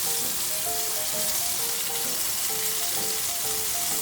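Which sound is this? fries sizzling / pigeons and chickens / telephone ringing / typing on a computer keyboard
fries sizzling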